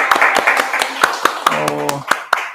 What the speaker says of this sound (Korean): 네, 다시 한번 박수 치면서.